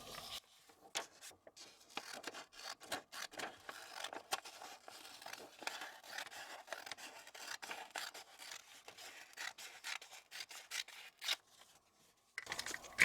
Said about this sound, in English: we're going to cut along the black line on top